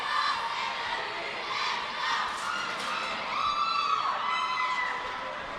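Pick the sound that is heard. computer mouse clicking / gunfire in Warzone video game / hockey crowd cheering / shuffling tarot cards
hockey crowd cheering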